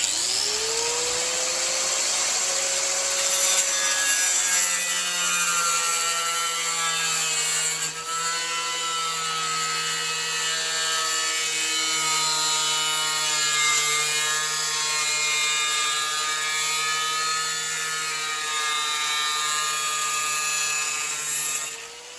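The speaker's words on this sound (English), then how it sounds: "the best way I can think of doing this is angle grinder" An angle grinder cutting through an RV's metal roof for a fan installation gives a sustained high whine with a dipping pitch as it bites in, loud and close, running steadily for over twenty seconds without talk.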